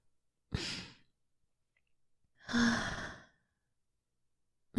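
Two slow, audible breaths out during a relaxation exercise, each a soft, airy sigh lasting about a second, close and isolated with silence between them.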